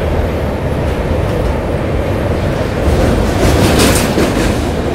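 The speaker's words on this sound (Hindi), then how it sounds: "ट्रेन अभी खड़ी है कमख्या में" Train at Kamakhya station in Guwahati, a steady, loud, close rail rumble with faint clickety-clack that swells slightly near the end, with no voices.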